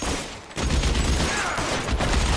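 Gunfire during a shootout in LA Noire, a dense sustained fusillade of shots with a short dip near the start, loud and close amid chaotic battle noise.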